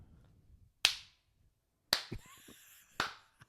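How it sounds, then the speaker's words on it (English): Three slow, deliberate claps ring out about a second apart, each a sharp isolated crack with a short decay, over near silence in a studio setting. "Rose, now cue the slow clap"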